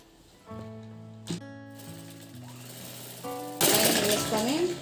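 A sewing machine hums and stitches in short bursts along the lining of a long frock, its motor whine stepping up and down in pitch, close by and clear.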